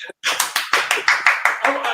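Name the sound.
a man clapping his hands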